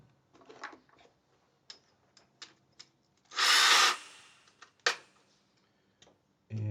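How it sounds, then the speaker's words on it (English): Power drill boring into guitar wood at a luthier's bench, short bursts of whirring with a loud sustained grinding stretch midway, separated by clicks and taps, fairly close. "And drill some of this out."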